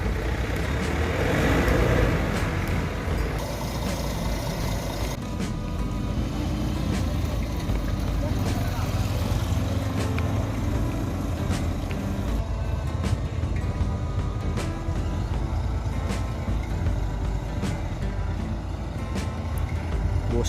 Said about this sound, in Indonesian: Ini adalah bus ABG terbaru.